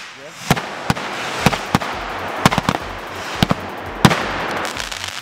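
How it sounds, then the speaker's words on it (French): A rapid series of sharp pyrotechnic bangs from remote-triggered charges on a film set cracks out irregularly over a hissing, crackling background, each blast loud and close. "on appuie sur le bouton et ça explose"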